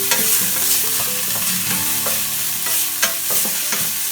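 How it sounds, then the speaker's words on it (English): Chopped garlic, ginger and green chilies sauté in a pan for aloo gobi: loud, close sizzling with busy stirring scrapes and clatter throughout. "After this add chopped green chilies and saute for about 1 minute"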